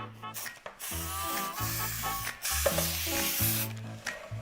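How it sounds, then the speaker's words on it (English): Cooking spray hisses in bursts as it coats the sides of a pan, a soft airy spray sound partly buried under steady background music. "Now you want to spray the sides with some cooking spray."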